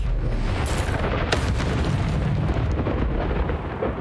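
The Incendio fire spell in Hogwarts Legacy goes off with a loud, dense burst of roaring fire and rumble, followed by one sharp crackling flare midway before the sound eases slightly.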